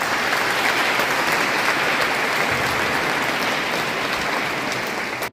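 Sustained, dense applause fills a historic town hall as a new mayor is elected, loud and continuous for several seconds before cutting off abruptly, with no distinct music audible above the clapping.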